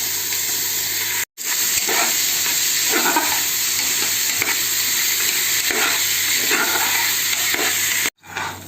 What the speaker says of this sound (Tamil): அரிசியை நம்ம நெய்யில் வதக்கணும்